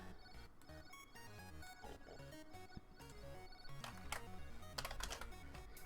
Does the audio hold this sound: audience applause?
no